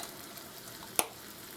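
Hamburger patties fry quietly on a stove, a faint, steady sizzle with one sharp click near the middle.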